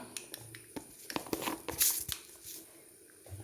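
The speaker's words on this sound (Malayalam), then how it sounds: "കടുക് പൊട്ടി" Mustard seeds pop in hot oil in a pan on the stove, with sharp crackles and snaps scattered irregularly over a quiet background and a brighter burst partway through.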